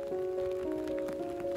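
Rain falls on city streets in Copenhagen, a soft continuous patter beneath a steady tonal hum, brief and unbroken.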